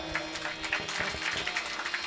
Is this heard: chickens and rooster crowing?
no